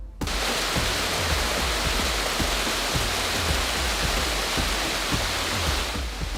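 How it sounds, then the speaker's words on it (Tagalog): Kili Falls in Abra roars as a powerful waterfall, a loud, steady broadband rush of falling water with low churning pulses, continuous and close throughout. "Powerful ang falls na ito"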